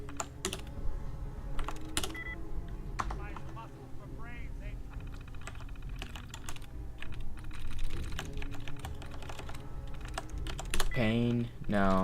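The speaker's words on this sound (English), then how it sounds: "Oh wait, let me use it this way with the keyboard." Rapid clattering keystrokes on a computer keyboard while Fallout 4 is played, steady irregular tapping throughout, close and fairly loud, with game sounds and a brief voiced cry near the end.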